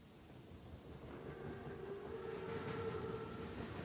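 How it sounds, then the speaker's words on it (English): A train passing in the World War II shooter Call of Duty: WWII, a low rumble with faint metallic squealing tones that swells slowly and stays fairly quiet, with no talking. "Train's right on time."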